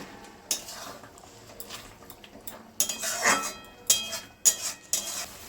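Bitter gourd and eggplant, already fried, being stirred in a pan with a spatula, giving scattered metallic scrapes and clinks at an irregular pace, close by and moderately loud, with no talking.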